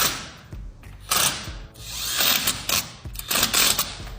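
Power drill driving screws to mount a Tesla wall connector in a commercial unit, several loud whirring bursts in quick succession with brief pauses between, close by and alone.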